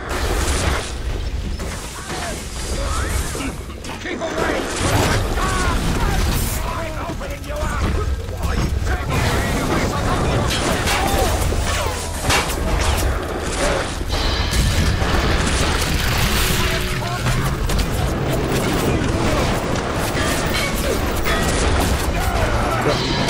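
Chaotic combat in the video game Bioshock, with loud bursts of gunfire, booms and clattering mechanisms stacked into a dense, continuous barrage. The noise stays loud throughout, and voices are partly buried beneath the din.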